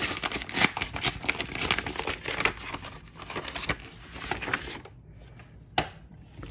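A padded envelope of mailed trading cards and autographs from Tampa–St. Pete, Florida, is torn and rummaged open, giving dense crinkling and rustling of paper and plastic for several seconds before a quiet stretch broken by one sharp crackle.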